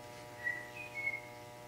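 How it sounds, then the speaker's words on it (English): A faint, brief whistle carries over a steady low hum, a thin rising tone heard once or twice in quick succession at a distance. "Somebody whistled."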